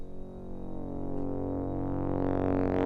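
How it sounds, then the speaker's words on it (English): A single reversed synth note swells gradually from soft to louder over about three seconds, a sustained, harmonically rich tone brightening toward the end as it builds. "And then this is just a synth note reversed."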